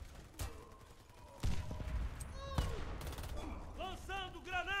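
Bursts of gunfire in the Warface video game hit the player, with sharp single shots and rapid volleys at moderate volume and a voice reacting between them.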